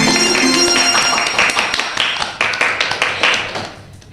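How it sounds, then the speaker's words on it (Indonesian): A small group at a school student-council podcast claps together, with dense, close, fast hand claps that thin into separate slaps and fade toward the end. "Tepuk tangan untuk kita semua."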